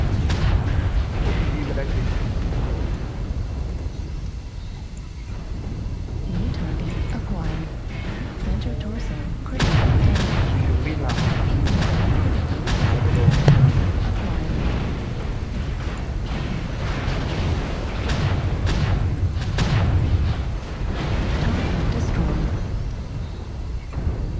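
In the MechWarrior Online video game, weapon fire pounds a mech with a dense stream of rumbling booms and sharp impact bursts over a steady low battle roar, growing heavier midway, with voices chattering underneath.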